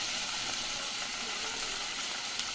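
Peas, carrots and beans sauté in a pan for rava kichadi, giving a steady, even sizzling hiss throughout with no voices.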